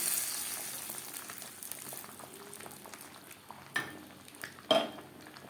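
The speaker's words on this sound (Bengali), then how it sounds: "দশ পনেরো সেকেন্ড ভেজে নেওয়ার পর এই ফোড়ন বা তরকা দিয়ে দেবো ডালে" A tadka tempering frying over a low flame for masoor dal with radish, a faint, steady bubbling sizzle with a few louder utensil knocks against the pan near the end.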